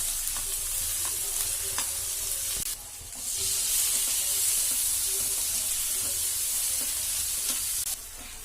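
Onion mixture with ginger-garlic paste sizzles and fries in a pan for a bechamel macaroni dish, with a steady hiss and scattered spatters and stirring scrapes, close and continuous with no talk.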